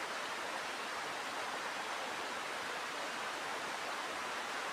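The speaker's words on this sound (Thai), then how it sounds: "ฝนตกมาแล้วนะครับ" Steady rain falls in a mountain forest during a highland fishing trip, a dense, even hiss that continues unchanged throughout with no voices.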